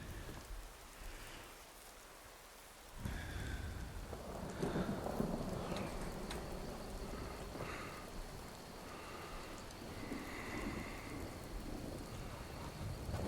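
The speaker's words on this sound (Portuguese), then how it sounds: "Olha essa chuva aí, hein?" Rain falls steadily in the Skyrim video game while thunder rolls, starting faint and then swelling into a fuller downpour with a deep rumble that lasts to the end, and no one speaks.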